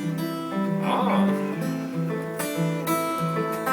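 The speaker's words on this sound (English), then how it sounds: "That's called fingerstyle guitar." Fingerstyle guitar with strings picked individually rings out in soft, overlapping notes and a few brighter plucked accents, heard alone for a few seconds.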